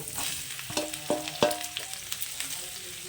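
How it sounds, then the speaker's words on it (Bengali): Spiced okra hitting hot mustard oil in a pan, with a loud continuous sizzle and a few sharp clicks and scrapes of stirring against the metal. "তেলটা ভালো গরম হয়ে গেছে এখন আমি যে ভেন্ডিগুলো মেখে রেখেছি সেই ভেন্ডিগুলোকে এটার মধ্যে দিয়ে দিচ্ছি"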